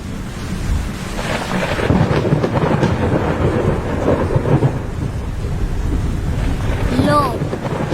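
Heavy thunder rumbles alongside rain and wind before an approaching storm, loud and continuous with rolling low booms, in an animated setting.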